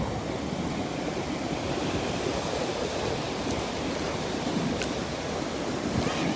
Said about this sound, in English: I can get closer to the waves for you, Joseph